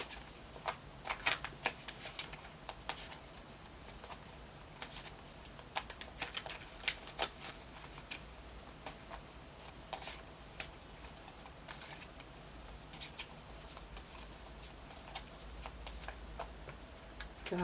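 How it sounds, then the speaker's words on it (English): A deck of crystal cards is shuffled and handled quietly, giving a faint, continuous run of soft ticking, riffling and tapping clicks over almost twenty seconds, close and low in level with no talking. "let's pull a crystal card and see what gemstone or crystal is best for you at this time of year"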